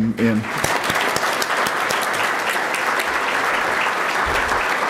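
At an all-club luncheon, a crowd breaks into sustained applause, dense and fairly loud clapping that holds steady for the full stretch after a voice at the very start.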